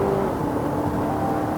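A Chery Tiggo 8 Pro 2.0T turbocharged engine with a DCT gearbox pulls hard under boost, a steady, dense engine drone heard from inside the cabin.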